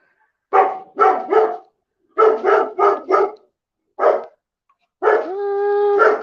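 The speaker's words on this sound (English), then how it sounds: "Y'all are about ready to hear my dog bark because the UPS truck just pulled in." A dog barks loudly and close as a UPS truck pulls in, in quick bursts of two to four with pauses between, ending in a longer drawn-out howling bark.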